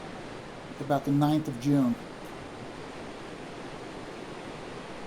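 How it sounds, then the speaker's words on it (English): The Provo River at peak spring flood, pouring into the east arm of Jordanelle Reservoir, makes a steady, even rushing roar that fills the whole stretch, with a person briefly talking over it early on. "So that's the Provo River feeding into it"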